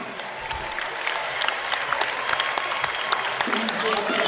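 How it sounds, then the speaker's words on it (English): Audience applause at a high school student news broadcast honoring a fall athletics season, steady clapping swelling slightly over several seconds. "Please give a big round of applause for all of our Pioneer athletics on an outstanding fall season."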